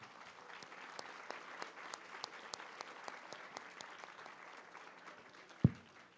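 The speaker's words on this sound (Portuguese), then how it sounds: "Palmas, por favor." A fairly sparse audience at a talk claps softly and at a distance, with separate claps audible through the thin applause and a single loud thump near the end.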